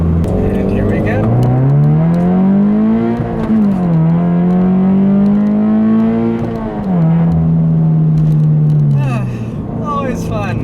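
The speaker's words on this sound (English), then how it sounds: "I'll leave you with a nice little acceleration here like I always do" A Subaru BRZ accelerates from close range, its engine note rising steadily through the gears with two brief dips at the shifts before easing off near the end, with no talk over it.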